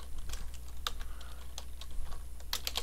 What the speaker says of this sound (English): we do this by typing in transaction